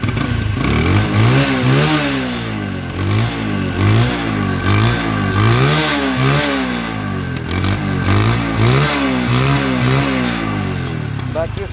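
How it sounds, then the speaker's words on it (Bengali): A second-hand blue Apache RTR 160cc motorcycle with about 4,090 km on it revs repeatedly close by, its engine rising and falling in pitch over a steady idle, with no talk. "এখন দেখো বাইকটির সাউন্ড এবং পারফরমেন্স"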